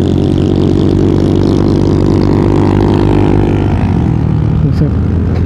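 A motorcycle engine drones loud and close with a shrill, tinny tone, running steadily with a slight shift in pitch near the end.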